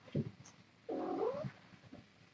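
Kittens 38 days old meowing indoors: a short faint mew, then a longer, louder drawn-out meow, followed by a softer final mew, fairly close and quiet, with no talking.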